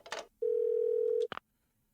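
A telephone dial tone in the Parasite Eve 2 video game: a single steady, pure electronic tone held for nearly a second, bracketed by short clicks of the handset and game sounds.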